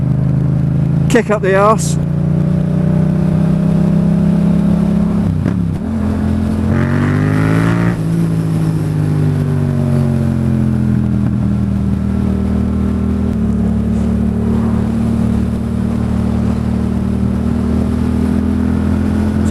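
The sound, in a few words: motorcycle engine pulling through the rev range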